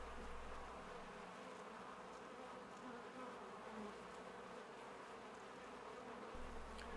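Soft, continuous buzzing of bees close by, a steady drone with slight wavering in pitch.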